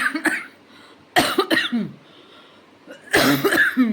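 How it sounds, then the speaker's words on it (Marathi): Hard, harsh coughing from laughing, up close, coming in three separate fits with quiet gaps between them; the last fit is the longest. "जोरदार खोकलाला हसता हसता"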